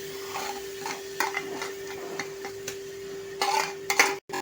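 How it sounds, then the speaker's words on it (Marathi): A ground masala paste of coconut, coriander and onion is sautéed in a pan, with intermittent stirring scrapes and clinks over a low sizzle and a steady hum, growing busier near the end, no speech. "बस 1-2 मिनटं ह्याला परतायचं आहे आपल्याला"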